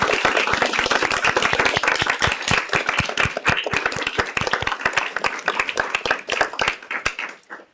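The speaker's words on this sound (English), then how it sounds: "And can I get another round of applause for all of the poets?" A live audience at a Black women poets reading applauds the poets, with loud, dense clapping and distinct sharp individual claps that hold steady before tapering off at the very end.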